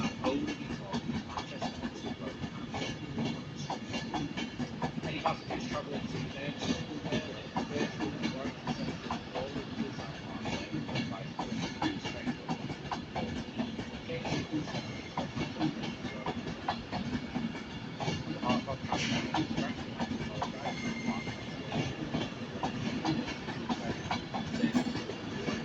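Trains at Manchester Piccadilly station, heard from a platform: a steady, fairly quiet rumble of rolling stock with hissing and faint clickety-clack running throughout, and muffled background voices.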